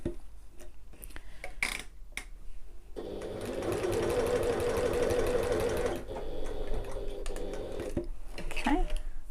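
A sewing machine stitching along the short end of a sling bag, running in a steady whirring burst for a few seconds in the middle, framed by handling clicks and someone speaking before and after.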